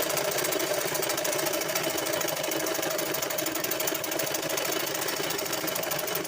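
A sewing machine stitches the folded front part of a blouse with a steady, fast, evenly pulsing mechanical whir that runs close and loud, without a break and without talk.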